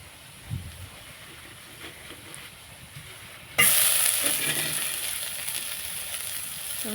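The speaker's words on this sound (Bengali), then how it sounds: "পেঁয়াজগুলো একটু ভালো করে ভেজে নেব।" Chopped onions drop into hot oil in a pan and start sizzling loudly all at once, a steady crackling fry that continues after a quiet stretch of faint stirring.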